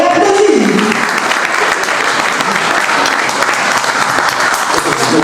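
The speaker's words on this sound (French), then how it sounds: "Papa respecté, on l'applaudit." Loud, sustained applause from a large gathering at a memorial tribute, dense and even from start to finish, with a brief voice near the beginning.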